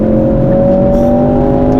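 A 2024 Mercedes C63S AMG engine drones loudly and steadily under hard acceleration, a strong low hum with a rising tone, heard from inside the cabin.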